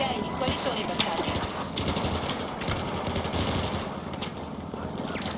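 Sustained automatic gunfire from the Battlefield 4 video game, dense rapid bursts rattling continuously over a busy battlefield mix with a voice talking beneath.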